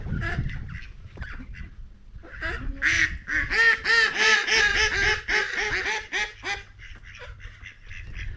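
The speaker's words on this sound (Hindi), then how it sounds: "ये मुर्गों के साथ साथ में ये बतख टाइप की भी होते हैं" Ducks quacking loudly and repeatedly in a rapid chattering series, close by, over a low background rumble.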